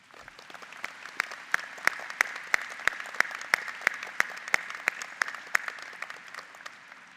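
Moderate applause from a seated audience at a university commencement ceremony, individual claps distinct and fairly even, building briefly then fading out.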